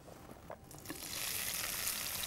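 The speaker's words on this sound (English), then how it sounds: "I love the sound of sizzling." Spring onions stir frying in hot groundnut oil, a steady hiss of sizzling that swells louder partway through amid faint clatter of stirring, with no one talking.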